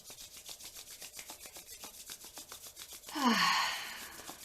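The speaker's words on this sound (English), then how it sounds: "begin to rub the palms of your hands" Palms of the hands rubbed briskly together during a yoga session, giving a steady rhythmic swishing friction close by, followed by a brief louder burst of rubbing at the end.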